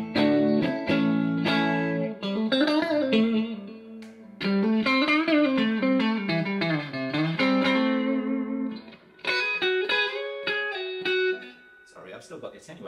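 An electric guitar plays through a Carr Skylark amplifier with reverb, middle boosted and bass trimmed, ringing chords and melodic runs with sustained notes that decay into a spacious tail, pausing briefly between phrases.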